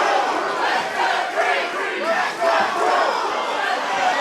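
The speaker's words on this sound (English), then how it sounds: "We've got dueling crowd, challenger and champion." A wrestling crowd at a steel cage match splits into dueling chants for the challenger and the champion, loud and continuous with rhythmic swells of massed voices filling the arena.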